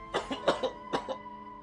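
Several short, dry coughs come in quick bursts, close and fairly quiet, with a brief pause between the clusters and no talking.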